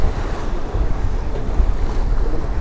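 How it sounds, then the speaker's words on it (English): Ocean waves surge and wash in a steady, roaring rush with heavy low rumble and wind-like noise, loud and close, with no voices. "It's the vastness of this ocean, you know."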